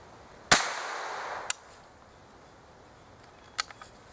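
Sharp shots from a shotgun fitted with a smooth bore adapter, fired at a small turkey target outdoors: one loud report with a decaying tail, then two fainter cracks about a second and two seconds later.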